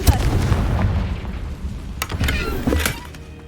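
A Confringo fire spell from Hogwarts Legacy exploding, a deep booming blast followed by crackling bursts and sharper pops over several seconds, loud and close, with no talking.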